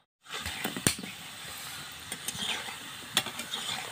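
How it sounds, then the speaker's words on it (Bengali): Gaja pastries frying in hot oil, a steady soft sizzle with occasional sharp clinks and scrapes of a utensil stirring in the pan, fairly quiet and with no talking. "আরও সুন্দরভাবে লাল লাল করে ভেজে নিব"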